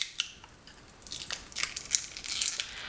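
Crinkly plastic wrapping on an Ulta eyeshadow product is torn and peeled off at close range, with soft crackles and sharper rustling bursts growing busier toward the end.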